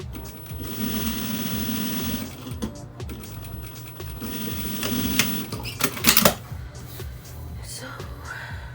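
Sewing machine top stitching a fabric face mask, two runs of steady rapid needle chatter about a second and a half each, with handling clicks and a brief rattle between, close and fairly loud.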